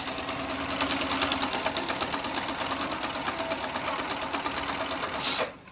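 An Electrolux electronic sewing machine runs straight stitches at a 2.5 stitch length, a steady rapid mechanical whirring with even needle pulses, stopping abruptly just before the end.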